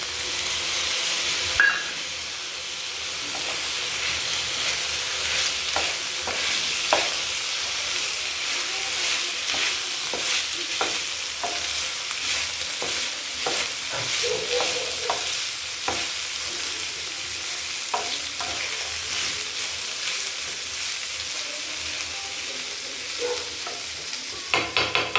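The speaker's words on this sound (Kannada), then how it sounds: "ಈಗ ಟೊಮೊಟೊ ಹಾಕಿ ಮಿಕ್ಸ್ ಮಾಡೋಣ" Chopped tomato stirred into vegetables frying in a pan, a steady close sizzle and hiss with repeated scraping stirs throughout, no talk over it.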